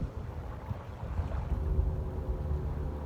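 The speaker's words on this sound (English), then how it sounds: "There's a boat in the background now" A boat passes in the distance, its low, steady engine rumble mixed with wind buffeting the microphone, continuous and fairly faint with no talking.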